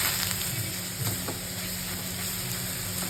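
Shrimp fry with garlic and green chili in a pan, giving a steady close sizzle and hiss with faint stirring clicks and no talk.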